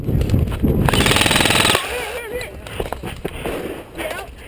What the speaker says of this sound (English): Give me cover fire. Just keep shooting.